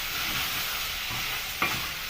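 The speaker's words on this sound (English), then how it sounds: "So you can just stir it." Chopped bell pepper being stirred in a hot pan for a pork dish, a continuous frying sizzle with soft scraping strokes and a sharper clack near the end, no voices.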